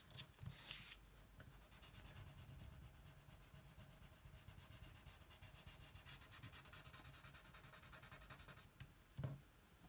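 Pencil shading on paper makes a steady, close, soft scratchy rubbing that keeps up in quick back-and-forth strokes with no talk.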